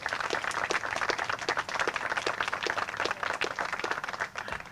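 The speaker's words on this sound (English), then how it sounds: "So give them a round of applause as well." Applause at a governor's bill signing ceremony for legislation fighting vacant housing, steady moderate clapping from a modest audience that runs throughout without a break.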